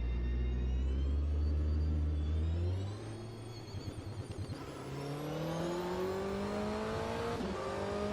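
A loud racing engine in Automobilista 2 drones and revs, its pitch dropping then climbing steadily as it accelerates again.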